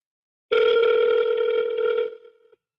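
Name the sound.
telephone dial tone when redialing a call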